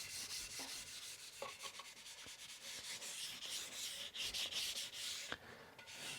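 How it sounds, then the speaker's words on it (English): Guitar neck of a six-string multi-scale guitar being hand-sanded with 400 grit sandpaper; a close, continuous soft scratchy rubbing in back-and-forth strokes with occasional light knocks, no talking. "most of the neck sanded with the 400 grit"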